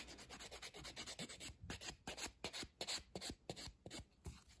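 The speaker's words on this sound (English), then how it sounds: "It feels super rubbery when I'm filing" Acrylic nails being filed with a nail file, a quiet, close, rhythmic rasping of repeated short back-and-forth strokes, soft and dry, with brief pauses between bursts and no talking.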